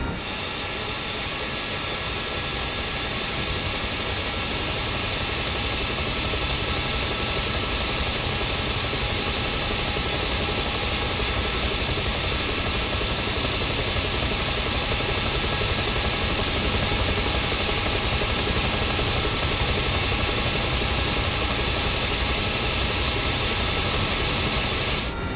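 A Mil Mi-2 Hoplite helicopter in a flight simulator gives a steady, loud turbine whine and rotor drone that holds unbroken for the whole stretch, with no talking over it.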